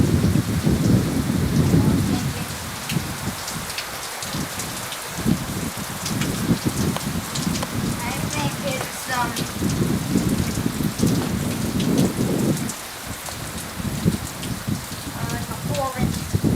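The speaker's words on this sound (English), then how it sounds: "Pouring rain. in the pouring rain. Desert rain." Heavy desert rain pours down steadily with rumbling thunder, while a person speaks briefly beneath the downpour.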